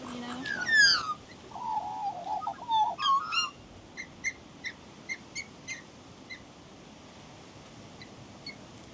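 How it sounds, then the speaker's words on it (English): Young Australian magpies calling near a clifftop campsite on the Nullarbor, starting with loud warbling, then a string of short, evenly spaced chirps close by that fade off against a quiet background. "there's lots of young maggies, like the two right next to me"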